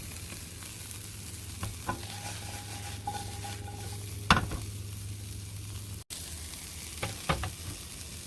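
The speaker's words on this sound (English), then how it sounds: "you want to evenly coat it with the oil so it don't burn, because that wok is hot" Broccoli stir-frying in hot oil in a wok outdoors, a steady close sizzle with scattered clacks and scrapes of stirring, occasional sharper pops rising above the frying hiss.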